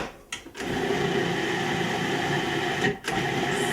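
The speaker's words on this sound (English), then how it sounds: "we're just going to whiz that up in the blender, the Cuisinart here, until it makes a nice ball" A Cuisinart blender whizzes pie crust ingredients in a steady, loud mechanical whir, briefly cutting out twice as the motor is pulsed.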